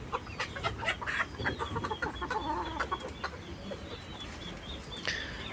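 Farmyard roosters on a small farm cluck and call over a busy background of other fowl, with occasional wing flaps, at moderate distance and fairly quiet.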